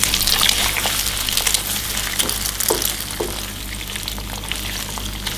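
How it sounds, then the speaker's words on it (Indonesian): Scrambled egg fries in a little oil in a pan, giving a close, continuous crackling sizzle with scattered pops and stirring scrapes, steady throughout with no talking. "Kita goreng telurnya sampai kering biar nanti dia tidak terlalu amis"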